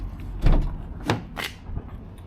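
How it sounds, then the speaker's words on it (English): Rear doors of a new 2024 Mercedes Sprinter 2500 AWD van opening, giving a few close thuds and latch clunks in quick succession, parked near a beach. "maybe we'll just open up some back doors here"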